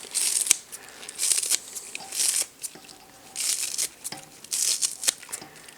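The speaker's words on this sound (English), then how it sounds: "So I got some chives, and I'm going to cut those and put it up." A knife cuts through a bunch of chives on a board in bursts of close, crisp crunching and crinkling, separated by short quiet gaps, with no talk.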